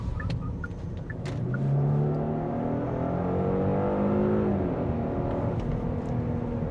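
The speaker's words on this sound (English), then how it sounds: "let's throw it into this corner and on the entrance ramp." A 2025 Genesis G80 Sport Prestige sedan accelerates hard through a corner onto an entrance ramp, heard from inside as a rising, sustained engine note that climbs, holds and eases slightly, moderately loud and steady.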